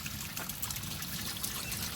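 Water trickles steadily and close by, a continuous splashing dribble with no voices.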